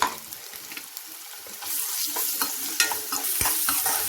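Ginger garlic paste frying with mutton in a pan, a steady close sizzle that swells louder partway through, with scattered stirring scrapes and clicks.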